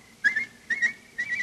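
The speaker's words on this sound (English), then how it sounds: "Why do you keep whistling like that?" A man in an old-time Sherlock Holmes radio drama whistles for help, three short rising two-note whistles close to the microphone with brief pauses between them.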